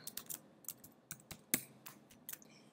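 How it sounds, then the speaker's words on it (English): Crisp keystrokes on a computer keyboard as login details are entered, a dozen or so separate clicks in an uneven rhythm with brief pauses, close and quiet with no voices. "As soon as you type your username and password, click log in."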